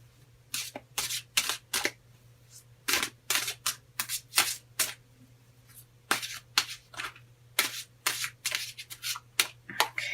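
Close, crisp bursts of tarot cards being shuffled, riffled in uneven clusters with short pauses between, over a faint steady hum.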